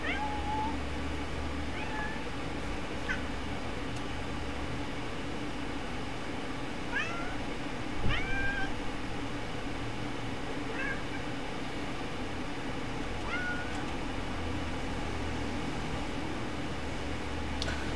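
A cat meows repeatedly indoors, short rising and falling calls spaced every few seconds, fairly faint over a constant droning background hum, with no speech.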